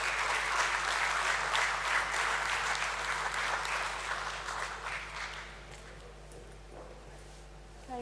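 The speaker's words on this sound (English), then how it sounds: "Let's have a huge round of applause for her, please." A hall full of guests at a stock exchange listing ceremony claps in a broad round of applause, loud at first and gradually thinning and fading out over several seconds.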